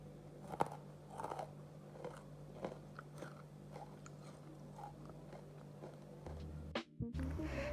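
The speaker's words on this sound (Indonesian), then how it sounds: "Dan kalian bisa dengar ini tuh crispy banget" Crispy fried potato sticks with anchovies crunch between the teeth in close, repeated bites and chews, each bite a sharp crackle over quiet room tone, ending in a brief handling scrape.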